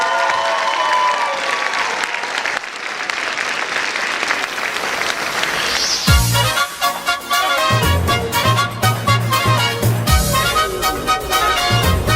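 Rousing applause from a concert audience welcoming vocal performers fills the first half, then a band and voices start up and the music takes over while the clapping fades beneath it.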